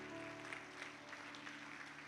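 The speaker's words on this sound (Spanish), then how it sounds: "Dale un fuerte aplauso" A church congregation applauds during a sermon, a faint, distant, steady patter of clapping under a low room hum that lasts about two seconds.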